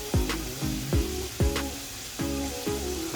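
Steak for a Philly cheesesteak sizzling loudly in a pan, close and continuous, with a few regular clanks of a utensil against the pan roughly every half second.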